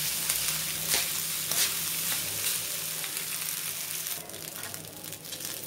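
Rice frying and sizzling in a pan with ajwain (carom seeds), stirred steadily with scraping strokes; a continuous close hiss with a few louder stirring bursts, no talking.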